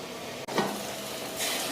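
A pan of vegetable masala for uttapam simmers under a lid, giving a soft, continuous sizzle and bubbling hiss heard up close with no talk.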